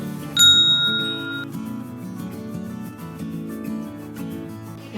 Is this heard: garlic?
no